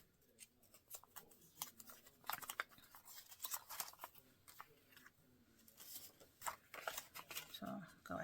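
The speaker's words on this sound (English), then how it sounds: "you're going to cut out that half a heart shape" Scissors cut a half heart shape from folded book paper for a vintage rose book-folding centerpiece, with quiet repeated snips and paper rustling, close and soft, while a voice talks over them.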